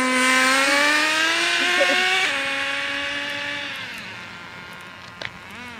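An Exceed Nitro Rally Monster .18 nitro RC car screams past on a speed run, its high whining engine note rising then dropping and fading as it pulls away, ending with a couple of faint clicks.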